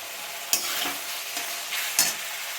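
Chopped green chillies hit hot oil in a frying pan while chicken ghugni is cooked, giving a continuous close sizzle with a couple of sharp stirring scrapes.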